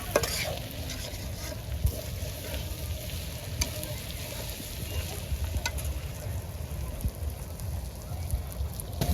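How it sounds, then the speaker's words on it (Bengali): Chicken fries in mustard oil with onion, ginger and garlic, a steady close sizzle and crackle with occasional stirring scrapes, continuous and fairly quiet with no talk. "মাংস গুলো ভেজে নিচ্ছি"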